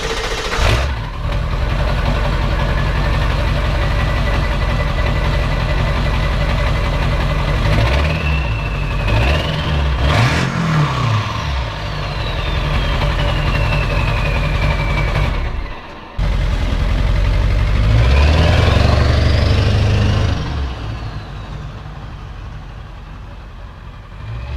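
Car engine with a 4-inch exhaust and no tip cranking and settling into a steady, close idle, with a couple of blips and a brief cut partway through.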